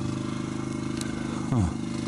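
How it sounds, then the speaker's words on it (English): A wood chipper powered by an old Ford six-cylinder engine, about a 240 or 300, runs at a steady idle-like drone with a harmonic hum, joined near the end by a brief rising scrape or clatter. "nice chipper, runs really well"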